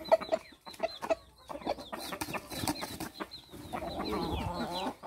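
Clucking from a three-spurred crossbred rooster, with short bursts and wing-flap-like rustles among other background noise, growing into a dense, busy stretch near the end.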